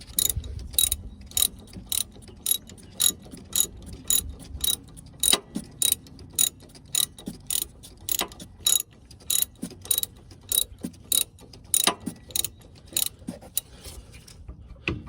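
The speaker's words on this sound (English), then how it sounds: "you can do that with a ratchet quite easily" Ratchet turning the rear brake caliper adjuster on a 1990-2005 Mazda Miata, a fast series of sharp close clicks in short bursts, fairly quiet with no talking.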